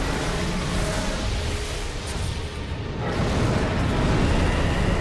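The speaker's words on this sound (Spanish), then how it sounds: "Cuidado con la explosión." A Bloodborne video game explosion gives a loud, sustained, noisy burst of rumble that fills the clip with no pauses and no speech.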